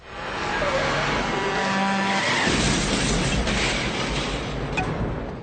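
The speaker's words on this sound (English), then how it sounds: "It's a head-on collision with another truck that finally dispenses him." A loud, chaotic crash-and-skid sequence from a horror-film truck head-on collision, with tires screeching over a dense roar of metal and engine noise that runs steadily for several seconds, no talk.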